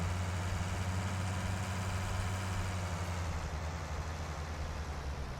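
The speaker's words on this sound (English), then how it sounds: "at the moment we have to back the tractor all the way down" Tractor engine idling in Farming Simulator 19, a continuous low rumbling drone with a steady throb, unchanging and alone.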